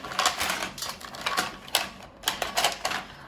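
Oracle cards are shuffled against a big bowl, giving a rapid series of crisp papery riffles and taps in short bursts, fairly quiet and close with no talking.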